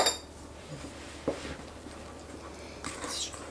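Flour, salt and nutmeg are mixed into kolache dough in a bowl, a spoon scraping and clinking softly against the bowl in a few quiet strokes.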